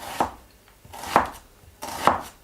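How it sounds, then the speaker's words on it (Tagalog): Knife chopping onion on a cutting board, three evenly spaced sharp thuds about a second apart, close and clear, with no speech. "Iwa tayong sibuyas."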